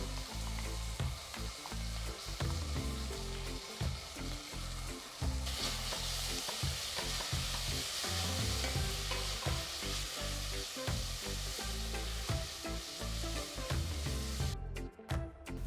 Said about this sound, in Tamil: இதில் அரைச்ச இஞ்சி, பூண்டு, பச்சை மிளகாய் விழுதை போட்டு வதக்குங்க.